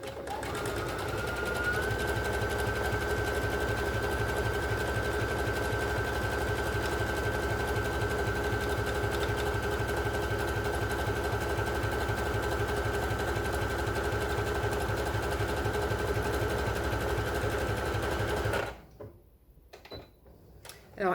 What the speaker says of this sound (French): faire mon point zigzag sur toute la longueur